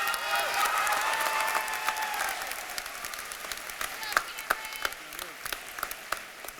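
Applause from the audience at a high school commencement ceremony, a dense sustained clapping that thins out into scattered individual claps toward the end.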